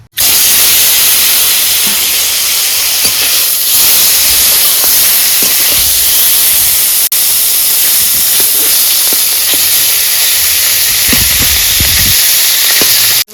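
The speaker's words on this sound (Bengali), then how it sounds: "তেল গরম হয়ে গেছে বন্ধুরা এবার মাছ দিয়ে দিলাম" Fish fries in hot oil in a kadai, giving a loud, continuous close-up sizzle and hiss that holds steady throughout with no talking.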